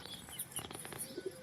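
Pigeons cooing and shuffling inside a coop, soft and fairly faint, with a few brief calls and light rustles over a quiet background; no talk.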